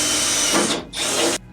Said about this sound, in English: that is where we have to drill our hole.